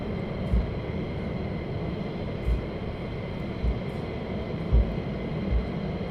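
Military jets taxiing at RAF Lakenheath give off a steady, distant roar and rumble, broken by a few soft thumps, with no voices.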